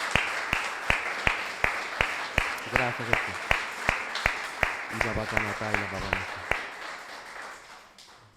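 Congregation applause at a church service, a slow, regular round of loud, distinct claps from many hands, with a voice speaking briefly over it and music tones joining partway.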